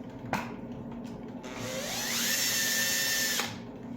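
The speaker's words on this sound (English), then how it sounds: "So do another quick drill here." A power drill whirs up in pitch and runs steadily for a couple of seconds drilling a shallow pilot hole into wood for small Phillips screws, then stops, with a sharp knock just before it starts.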